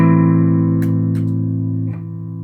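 An Electro Harmonix Freeze pedal holds a sustained electric guitar chord as a smooth, unbroken drone that fades slightly, with a few faint pick or switch clicks on top.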